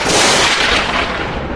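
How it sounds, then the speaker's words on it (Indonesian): A short, loud burst of blasting noise from an energy blast, a sudden whooshing boom with crackling hiss that fades slightly over a second and a half. "Aura emas dan biru meledak dari tubuh Aris."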